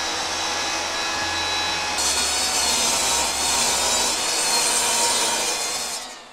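A power saw cuts through a wood board for a shop cart, giving a continuous whining buzz that rises in pitch as the blade enters the wood, holds steady, then cuts off near the end.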